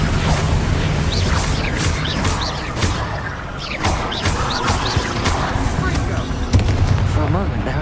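Confringo fire spell blasts in Hogwarts Legacy, a dense run of sharp explosive bursts and crashes over rumbling combat noise, loud and close, with a voice speaking briefly among them.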